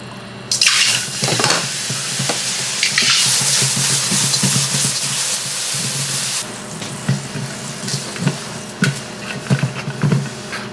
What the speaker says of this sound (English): I'll just take this water with the metal scrubby.